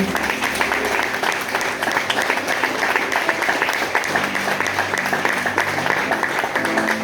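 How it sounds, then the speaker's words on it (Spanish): Sustained congregation applause in a church service, loud and steady for several seconds with a dense wash of hand claps and some faint background voices mixed in. "Dale un aplauso al Señor, por favor."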